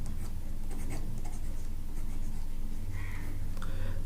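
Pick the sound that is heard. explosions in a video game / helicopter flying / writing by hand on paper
writing by hand on paper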